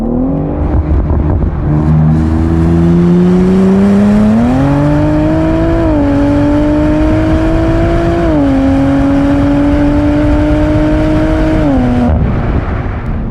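A BMW G80 M3 fitted with an Aulitzky exhaust revs loudly and close, pitch climbing in stepped sweeps and holding high before dropping back, with no talk.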